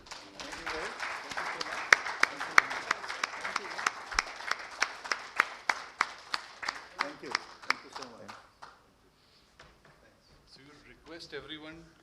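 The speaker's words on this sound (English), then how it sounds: "A huge round of applause" Crowd applause at a startup excellence awards ceremony in Gurugram, India, with sharp individual claps standing out in the dense clapping, which fades out after about eight seconds into quieter room sound and a brief murmur.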